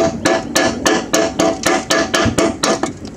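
Hammer chipping big rust flakes off a mower deck, about ten sharp metallic strikes at a steady, fast rhythm, close and loud with no talking.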